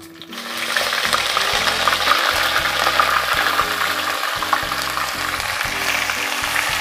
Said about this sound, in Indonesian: Saya akan tumis dulu bumbu yang sudah dihaluskan.